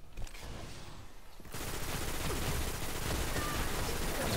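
Gunfire in Destiny's Iron Banner mode: faint rumbles at first, then from halfway on a dense, steady rattle of rapid shots and impacts, fairly loud and continuous.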